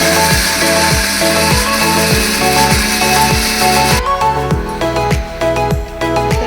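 Kitchen mixer grinder whirs loudly as it blends onion and chili powder with a little water into paste, a steady close motor roar with rhythmic pulsing churns and no talk.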